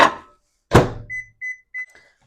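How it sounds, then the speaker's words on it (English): A microwave oven heating butter in a bowl for baking: one loud door thunk, then three clear evenly spaced completion beeps, close and alone without talk. "add that to the bowl and get that in the microwave"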